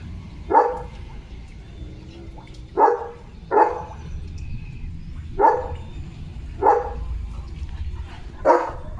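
A German Shepherd barks six times in separate single barks spread at uneven intervals, fairly close and loud over a low background hum.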